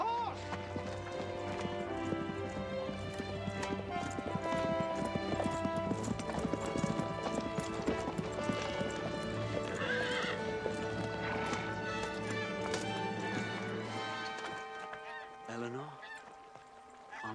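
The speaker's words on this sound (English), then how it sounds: "A horse! A horse!" Horse neighing and galloping with clear clip-clop hoofbeats, loud and close, over a continuous orchestral music score, with some voices briefly heard.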